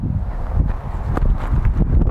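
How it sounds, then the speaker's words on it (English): Strong outdoor wind buffets the microphone during a drone test flight, a dense, gusty low rumble that never lets up across the whole stretch. "It is super windy."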